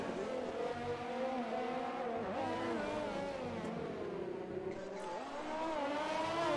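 An F1 race car sliding and drifting at the Russia circuit in the F1 2020 video game on PS4, its high engine whine droning continuously with wavering pitch dips and rises as the car loses grip.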